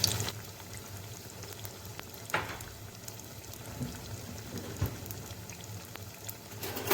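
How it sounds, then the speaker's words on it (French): Cheese-filled savoury beignets frying in hot oil, a steady soft sizzle and crackle throughout with a few louder bubbling bursts, fairly quiet and without talk. "On les met dans l'huile, on tourne une première fois quelques secondes après l'avoir mis"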